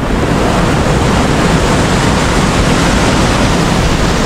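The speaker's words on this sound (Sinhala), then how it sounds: "අපි එද්දි තිබ්බට වඩා මාර සැරයි වතුර" Dunhida Waterfall roars with water running strong after upstream rain, a loud, dense, unbroken rush of white noise filling the whole scene without pause.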